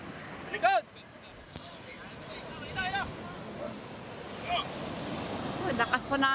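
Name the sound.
strong current and growing sea waves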